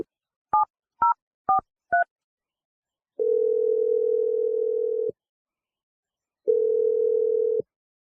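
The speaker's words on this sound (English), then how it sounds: "I'm going to dial your boss, Aaron, and we'll let you make your Awkward Tuesday phone call" A telephone is dialed live on a radio show: four quick touch-tone beeps, then two long, steady call tones separated by a short gap, all clean and close.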